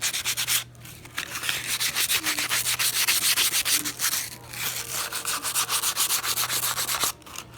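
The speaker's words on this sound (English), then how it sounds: "And then take a piece of sandpaper. You're not going to go hard on them, okay? You're just going to scuff them up a little bit." Sandpaper lightly scuffing the linings of Kawasaki brake shoes, a steady rapid back-and-forth rasp that keeps going with short pauses, close and fairly loud, with no talking.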